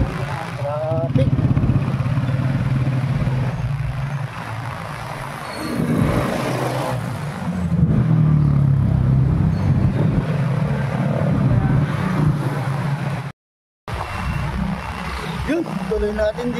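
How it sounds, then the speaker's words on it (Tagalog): Busy town road traffic with cars and motorcycles, a loud continuous engine drone and passing vehicles recorded close from a moving rider, with wind rumble and a brief dropout near the end. "Traffic."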